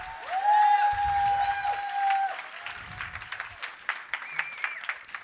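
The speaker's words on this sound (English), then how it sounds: "Give me a round of applause." A seminar crowd gives an entrepreneurship speaker a round of applause, heard as moderately loud clapping mixed with whistle-like tones that thins into scattered claps.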